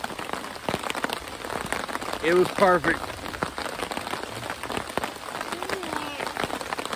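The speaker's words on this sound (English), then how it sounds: "we still got good rain going" Heavy thunderstorm rain pattering steadily on a backwoods campsite, a dense even hiss of drops throughout, with a person speaking briefly over it.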